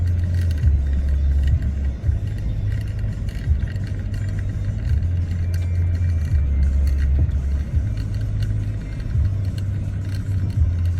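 A truck creeping along very slowly toward wild boar, its engine giving off a continuous low rumble with gentle swells close by and no voices.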